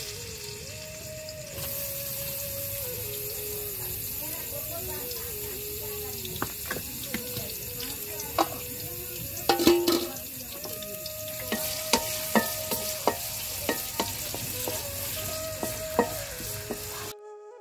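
Chopped onion, ginger and garlic sizzling and frying in a pan, a steady loud crackle with stirring scrapes and clatters throughout, close up, with a voice talking over it.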